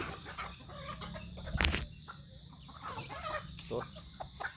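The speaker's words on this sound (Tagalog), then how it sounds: "Itong mga manok ko guys." Chickens cluck in short, scattered calls with crickets chirping steadily behind them, and one louder burst stands out partway through.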